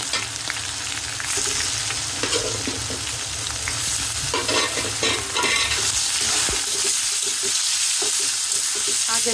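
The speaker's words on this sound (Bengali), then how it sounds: "এখন আমি শাকগুলো দিয়ে দিব" Data greens (amaranth stalks and leaves) hit hot oil over already-fried onions, giving a loud, continuous sizzle with steady stirring and scraping throughout, no voices.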